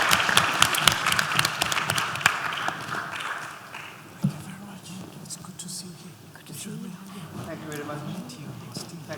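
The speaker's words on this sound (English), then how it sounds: "could we please have another warm round of applause to the entire panel" Audience applause for a conference panel at a plenary session, dense and sustained clapping that swells early and thins out toward the end, with some speech-like murmur mixed in.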